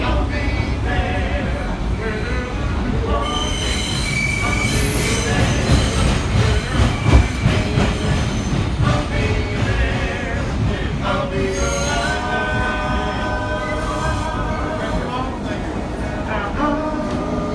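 A New York City subway train rolls loudly through the tunnel, wheels squealing in high, sustained screeches over a steady rumble and rhythmic clatter, with a voice speaking faintly amid the noise.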